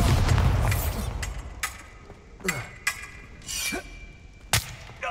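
Bombarda blasting spell from a video game: a heavy low rumble opens, then several sharp explosive bursts and pops land at irregular intervals, fairly loud with brief decays.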